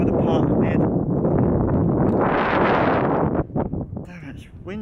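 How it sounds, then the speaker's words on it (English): Strong wind buffeting the microphone outdoors on a sunny hiking trail in Los Angeles, a loud rumbling roar that swells and eases, with a voice speaking briefly near the end. "Damn, it's windy."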